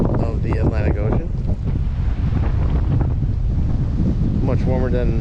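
Strong wind gusts across the windy point of the Black Creek Canal Trail by the Atlantic Ocean, a steady, close roar buffeting the microphone, with a voice speaking briefly at the start and again near the end.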